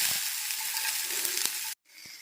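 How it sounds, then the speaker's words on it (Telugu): Sliced onions frying in oil in a pan for Hyderabadi dum biryani, giving a steady, close, loud sizzle with a few light stirring clicks, cutting out briefly near the end before a softer sizzle resumes. "ఉల్లిపాయ ముక్కల్ని వేయించడానికి నేను 1 టేబుల్ స్పూన్ ఆయిల్ వేసుకుంటున్నాను."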